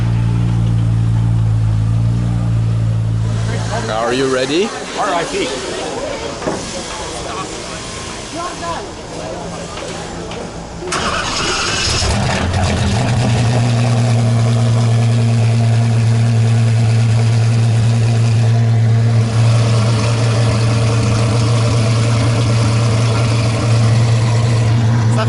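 A supercar with carbon butterfly doors and the same 780-horsepower engine as the Ferrari F12, at a car show, idles loudly with a deep steady drone, revs in a rising surge, then settles back to a heavy idle. Voices speak over it.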